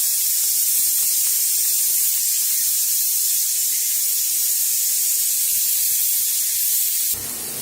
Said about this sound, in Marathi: त्या कुकर बी आपली शिट्टी देऊ लागले बघा